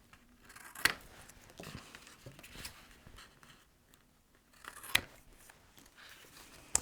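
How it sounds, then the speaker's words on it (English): Scissors snip across the corners of a cardboard chocolate box, a few sharp, quiet cuts spaced out with soft rustling of the card between them. "right at the corners, you're going to cut right across the corner"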